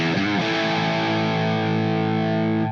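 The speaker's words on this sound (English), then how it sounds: "I'm going to flip it over to the HB, which is the more high gain side of the Friedman" An electric guitar runs through a Friedman Golden Pearl pedal into the high-gain HB channel of a Friedman amp, giving a quick picked figure that resolves into one loud, saturated, sustained chord ringing out alone.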